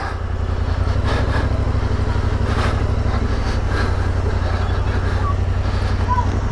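A motorcycle engine that has overheated runs steadily and loudly near the Nile, with a continuous low rumble throughout and faint voices in the background.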